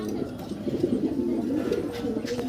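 Racer pigeons coo continuously in a soft, throaty, rolling murmur, close by and fairly quiet, with overlapping calls throughout.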